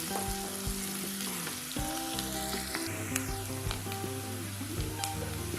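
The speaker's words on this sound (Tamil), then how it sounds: "வெங்காயம் நல்லா வதங்கட்டும்." Onions with curry leaves sautéing in hot oil in a pan for vendakkai rice, a steady close sizzle and frying crackle with occasional stirring scrapes throughout, no talking.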